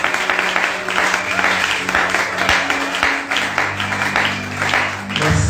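A church congregation claps and applauds steadily throughout, a thick crowd of hands with a sustained tone and occasional voices mixed in.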